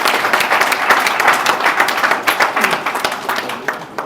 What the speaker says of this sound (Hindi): आप तालियां बजाकर उनको बधाई और धन्यवाद दे दीजिए।